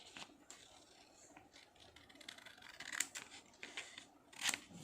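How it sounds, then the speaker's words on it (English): Scissors cutting paper patterns up close, faint snipping and crisp slicing with a few sharper cuts near the end, under quiet background noise. "I'll start cutting my patterns."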